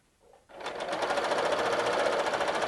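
A sewing machine stitching quilt binding, starting up after a brief pause and then running steadily with a fast, even mechanical chatter, close and loud throughout.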